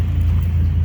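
A junkyard Honda Accord engine idles on a cold day, a steady, close, low rumble that holds even throughout with no voices.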